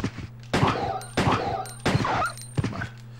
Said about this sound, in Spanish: Puede caer un perro con 7 disparos.